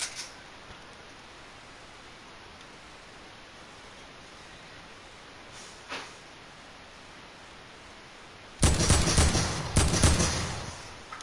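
Video game gunfire from a player's weapon: a couple of faint isolated shots over steady hiss, then a loud close burst of rapid fire near the end.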